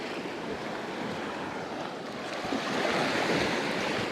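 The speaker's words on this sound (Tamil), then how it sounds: "இப்போ கடற்கரையால் போய் கொண்டு மேலே கடற்கரை காற்று சும்மா நல்லா இருக்குது." A sea breeze blows along the beach on Nainativu island near Jaffna, a steady close rush of wind over the surf lasting about four seconds and growing slightly louder toward the end, with no talking.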